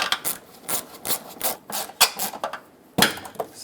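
Screws go back into the headlight of a 2000-2005 Ford Excursion with scraping, rasping turns and small metallic clicks, close and fairly loud in short uneven bursts.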